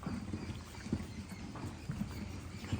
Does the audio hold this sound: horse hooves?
yes